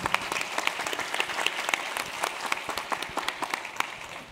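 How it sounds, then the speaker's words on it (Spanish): An audience at a banking panel discussion applauds the panelists with dense, steady clapping that holds through to the end, heard from within the room. "un aplauso para los panelistas"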